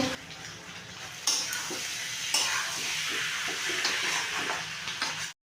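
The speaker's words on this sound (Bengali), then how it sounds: "এঁচড়টাকে পাঁচ মিনিট মতো নেড়ে নেবো" Young jackfruit is stirred with dry red chilli, chicken masala, garam masala, cumin and coriander powder in a pan, giving a close sizzle with scraping spatula strokes and a few sharper clanks before it cuts off.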